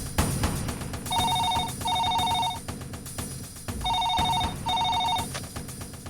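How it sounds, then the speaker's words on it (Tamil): A landline telephone rings in two pairs of double rings with a pause between the pairs, loud and near, over a faint background murmur. "அனுவோட லேண்ட்லைன் நம்பருக்கு"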